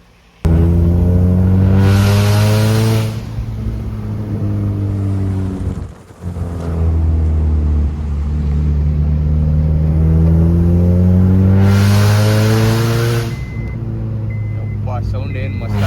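A modified car sits parked in a forest while its engine is revved twice, a loud, close, deep rumble that climbs in pitch and then falls back to a throaty idle between the bursts.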